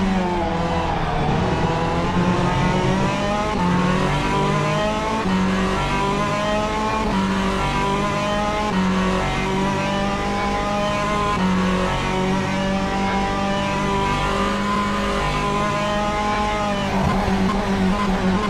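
Onboard engine of a sim race car in a virtual sportscar race at Road America, chasing a hypercar: a loud, steady high-revving drone with harmonics rising and falling through gear changes, continuous throughout with no talk.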